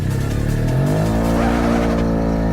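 A small licence-free microcar engine with an exhaust system revs hard and accelerates loudly nearby, its pitch climbing steadily with a whining, strained tone and some tire squeal.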